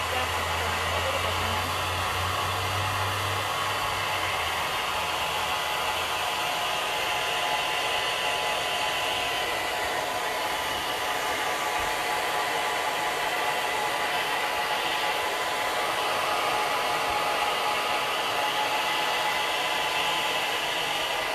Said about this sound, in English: get our heat gun and heat it up quickly right where it is